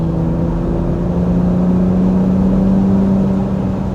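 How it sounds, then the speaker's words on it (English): Steady exhaust drone from a 2026 Ford F-150 Raptor pickup on a test drive, a low continuous engine hum with strong, even tone throughout, loud and close with no talking over it. "Give you a little bit of an exhaust note for those of you that might want to hear that."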